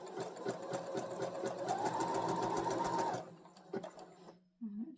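A sewing machine stitching fabric runs in a steady rapid mechanical chatter for about three seconds before stopping abruptly, followed by a couple of soft clicks and quiet handling, close and clear.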